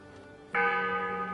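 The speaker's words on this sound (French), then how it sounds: "on va sonner la cloche" A large bell in the video game Crimson Desert is struck once and rings on with a loud, sustained, humming tone that slowly fades, with no talk over it.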